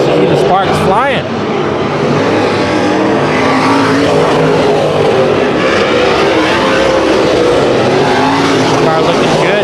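Race cars roar around the oval in a heat race at Bakersfield Speedway, engines loud and sustained with a quick rising whine early on, under a constant wash of track noise.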